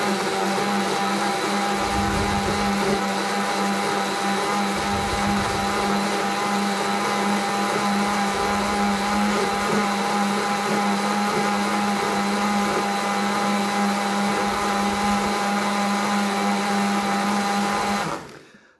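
A blender whirs steadily and loudly for about eighteen seconds, mixing a kiwi and banana milkshake, then cuts off abruptly at the end.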